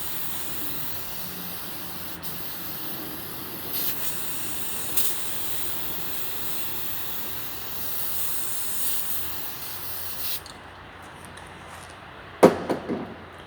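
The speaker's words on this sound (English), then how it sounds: "just as fast as I sprayed it" Steady, close hiss of cleaning solution sprayed onto the comfort grip handles of a US General 5-drawer tool cart, running for about ten seconds before cutting off, followed by a short clatter.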